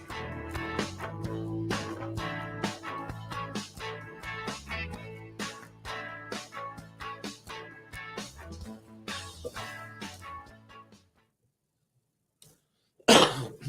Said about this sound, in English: I got that bit of a dry cough left